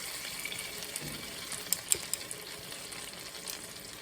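Ramen noodles hit a hot pan and fry with a dense, hissing sizzle that stays steady throughout, with a few sharp pops and crackles standing out partway through.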